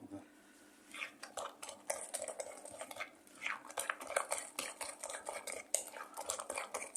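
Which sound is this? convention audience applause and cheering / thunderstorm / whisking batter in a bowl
whisking batter in a bowl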